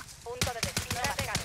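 Rapid bursts of automatic gunfire from a Call of Duty match crack out in a quick, evenly spaced string of loud shots, with a voice speaking briefly just before.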